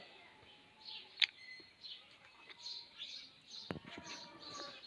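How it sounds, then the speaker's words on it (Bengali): A common myna calls near a feeding spot with bananas and chickpeas, giving faint, scattered chirps and whistles plus one sharp louder note, over quiet background rustling and no talk. "এটা হলো ময়না শালিকা"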